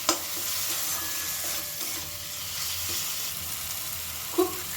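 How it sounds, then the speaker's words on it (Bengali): Tomato and turmeric being stirred in a hot pan while cooking dal palak, a steady frying hiss with soft scraping of the spoon and a brief clatter near the end. "টমেটোটা নরম হওয়া পর্যন্ত কিন্তু নাড়াচাড়া করেই যেতে হবে।"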